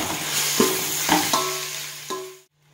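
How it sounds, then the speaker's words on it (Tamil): Onions, garlic and tomatoes sizzle in a pan for tamarind curry, a steady hiss broken by a few spoon-stirring knocks, close and fairly loud, before the sound suddenly cuts off near the end. "தக்காளி நல்லா வதங்கி வரணும்"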